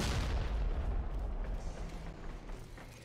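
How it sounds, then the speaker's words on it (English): A bomb blast in the video game Warframe, a loud, heavy boom that fills the clip and slowly rumbles away over about three seconds, with no talking. "Oh, that's a bomb."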